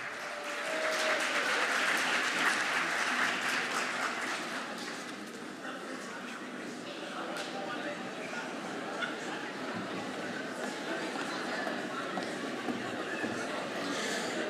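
An audience at a speech night event gives a long round of applause, many hands clapping densely, loudest at the start then settling to a steady, slightly softer patter, with voices mixed in.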